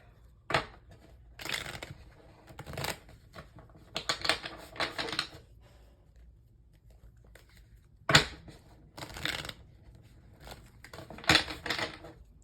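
A regular deck of playing cards being shuffled in bursts, crisp riffling flutters repeating every second or two with quiet gaps between, close and fairly soft, no speech.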